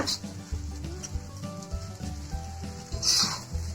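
Sabudana khichdi, sago pearls for a fasting dish, is turned in a pan: soft scraping stirs and a light sizzle, with a brief brighter scrape near the end, close by and with no talking.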